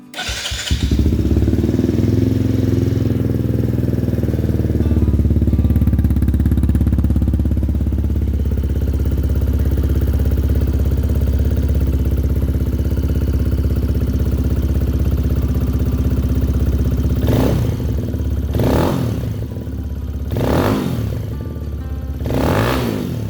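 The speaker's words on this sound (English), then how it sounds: "the bike ran fine, and I'll throw up a short clip of it running" A Benelli TnT 135 motorcycle engine cranks and catches on a cold start, then settles into a steady, loud idle with a few brief throttle blips near the end.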